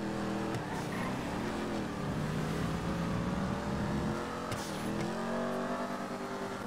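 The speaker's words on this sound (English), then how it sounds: "I've just been driving around in this Mustang. I really like the sound of it." A Mustang engine in GTA 5 Online revs and rises in pitch, with steady, fairly close engine drone and two distinct pulls of acceleration.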